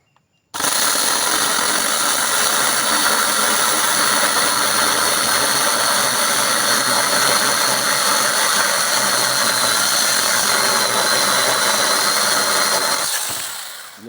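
A cordless mini chainsaw cuts steadily for about twelve seconds, a loud, continuous buzzing whine with a gritty chatter that starts abruptly and stops near the end.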